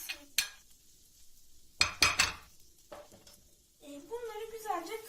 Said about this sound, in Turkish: karıştıracağım kızarana kadar